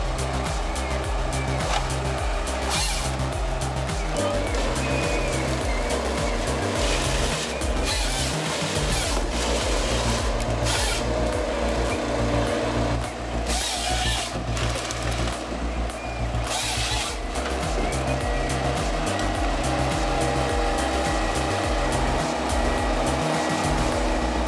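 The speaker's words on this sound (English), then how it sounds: "The Husqvarna 3120 XP is an extremely powerful saw." Husqvarna 3120 XP chainsaw cutting a tree in a forest, its engine roaring loud and continuously with shifting pitch as it bogs and revs through the wood, close by throughout.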